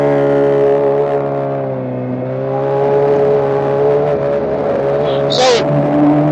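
A motorcycle engine drones steadily and close during a ride, its pitch rising slightly as it accelerates, with a brief high chirp near the end.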